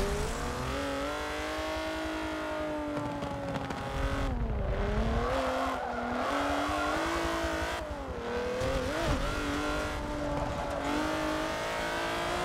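In a racing video game, a race car engine revs hard and keeps rising and falling through repeated gear shifts, loud and continuous, with a brief tire squeal and no voices.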